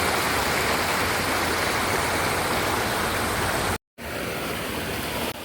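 River water flowing in a steady, loud broadband rush close by, briefly cutting out near the end before resuming, with no voices.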